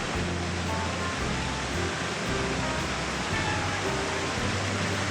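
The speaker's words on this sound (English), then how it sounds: "That's a waterfall." A waterfall at Disney World's Typhoon Lagoon water park rushes as a dense, steady broadband roar, loud and continuous over the whole stretch with a low rumble underneath.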